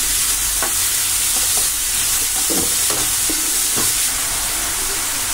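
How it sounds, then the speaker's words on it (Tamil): Onions sautéing in oil in a pan while making rajma paneer gravy, a continuous loud sizzle and hiss with scattered scraping stirs of a spoon throughout, no talk. "இப்போ இந்த ஸ்டேஜில் ஆனியன் ஆட் பண்ணிக்கலாம். சேர்த்து நல்லா வதக்கி விட்டுருங்க."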